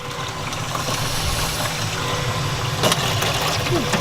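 A Merlo gas water heater burner fires up, a steady, broadband mechanical roar holding level throughout, with a brief knock near the end.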